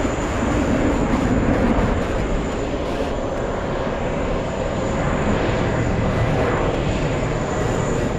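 Constant low roar of an Emirates airliner pushing back at JFK airport, a steady broadband jet hum with a faint high whine, heard from a distance with no change in level throughout.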